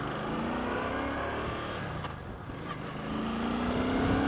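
A Suzuki Boulevard C50 touring motorcycle's engine drones steadily while riding, with wind rush and rising pitch as it accelerates, heard from the rider's position.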